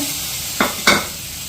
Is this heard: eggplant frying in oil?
yes